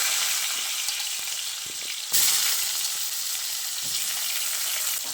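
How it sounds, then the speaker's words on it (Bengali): Cut potatoes fry in mustard oil in a wok, a loud hissing sizzle close up that surges suddenly midway as more goes into the hot oil, with a few faint clinks and no speech. "এবার আমি ওই তেলে কেটে রাখা আলুগুলো দিয়ে দিচ্ছি।"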